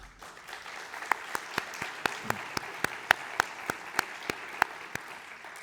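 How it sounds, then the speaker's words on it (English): Scattered, slow claps ring out at a conference closing session, sparse individual hand claps in a fairly even rhythm over a low room murmur rather than a full ovation. "I think they deserve another round of applause"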